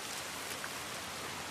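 Steady rain in the video game The Last of Us hisses evenly, a dense wash of falling drops with no voices or other sounds.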